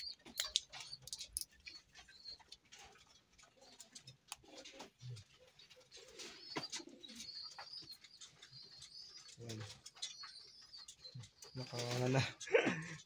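Pigeons in their loft give soft coos and scattered flutters amid faint chirps and ticks, quiet and close, with people talking intermittently over them.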